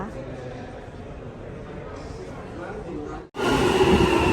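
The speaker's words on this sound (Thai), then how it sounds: "รถไฟก็มาแล้ว" Rumbling train noise under a voice, then a sudden cut to loud, close rushing and screeching as a train pulls in.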